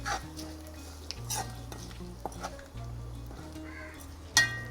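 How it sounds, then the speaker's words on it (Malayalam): Food sizzles steadily in a hot pan while a utensil scrapes and taps against the metal now and then, with a sharper clink near the end. "നല്ല ചൂട് ചട്ടിയായത് കാരണം അതിലിരുന്ന് തന്നെ ഒന്നുകൂടി ഫ്രൈ ആവും."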